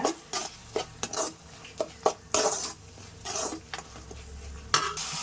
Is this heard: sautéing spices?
yes